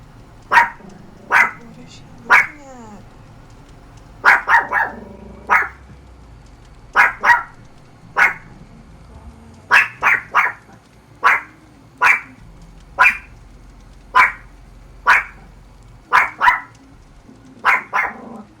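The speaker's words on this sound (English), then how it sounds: "our dog, she's a barker. She barks a lot." A dog barks repeatedly in sharp single barks at a steady pace, fairly close, with a brief faint voice in the background.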